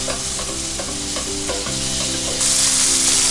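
Pancetta sizzles loud and close in a pan, a dense continuous crackle with light rhythmic stirring scrapes, and the hiss grows brighter near the end; no voices.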